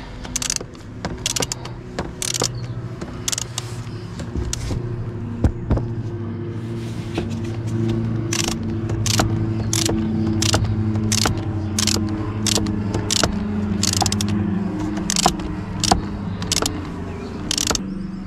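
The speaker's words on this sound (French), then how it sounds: "Là vous reprenez l'embout de 10. Ok, l'embout de 10. Et on va aller serrer." A 10 mm socket on a ratchet tightens the battery terminal nut of a Renault Clio 4, giving a run of close, sharp ratcheting clicks in quick bursts over a low steady hum.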